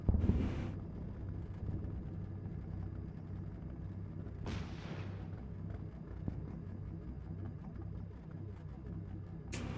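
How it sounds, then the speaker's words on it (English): Tank guns firing in the WWII game Combat Mission Normandy: two heavy booming shots several seconds apart, each a sharp blast with a rumbling tail over a low continuous engine and wind drone. "I'm gonna have my tanks start shooting those areas"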